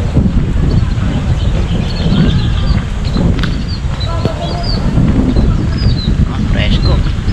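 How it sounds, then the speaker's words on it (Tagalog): Wind buffets the microphone outdoors in Filinvest City, Alabang, giving a loud, constant low rumble, while faint voices and birdlike chirps sit underneath. "tapos mahangin"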